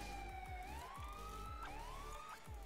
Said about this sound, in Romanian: Am oprit sirena asta pentru că este mult prea enervantă